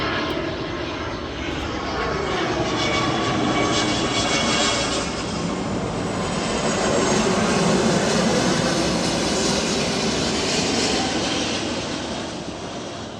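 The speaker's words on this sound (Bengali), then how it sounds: "ছাদে উঠলে প্লেন দেখা যায়" An airplane flies overhead above a rooftop, its jet engine roar loud and sustained, swelling slightly to a peak near the middle and then fading as it passes.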